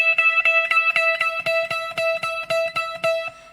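Clean electric guitar through a Fractal FM9, dry with no delay, picking a steady rhythm of two notes per beat; short, evenly spaced plucked notes ring alone at moderate volume.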